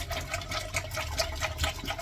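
Water sloshing and splashing inside a slim, flat stainless steel water bottle as it is rinsed after a vinegar clean, a steady close liquid churn with no voices.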